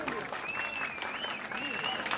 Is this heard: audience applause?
yes